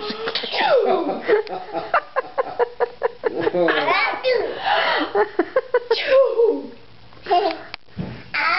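A young girl and another child fake sneezes among babbling and giggles, with bursts of childish vocal play over a busy stretch of talk-like sounds; an adult voice speaks between them.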